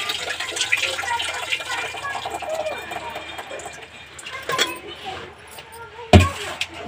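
Running water splashing over vegetables being washed in a home kitchen, an uneven gushing and sloshing that rises and dips, with a sharp knock near the end and people talking nearby.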